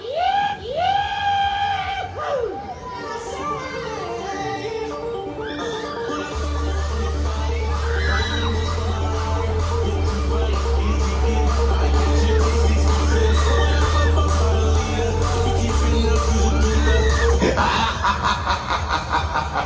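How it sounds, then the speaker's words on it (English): Riders on an extreme fairground thrill ride at a summer festival, with a crowd screaming and shrieking as it spins at top speed. Loud, continuous ride machinery runs beneath the screams. "Scream, scream, scream if you want to go faster."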